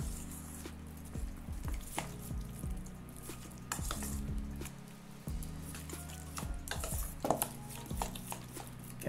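Flour mixture being stirred in a pan for eggplant lasagna, with repeated scraping and clinking of a utensil against the pan, close and fairly quiet, with a faint sizzle underneath.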